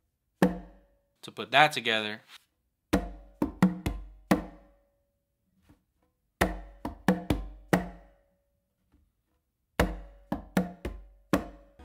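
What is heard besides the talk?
conga pattern with finger and close slap on tumba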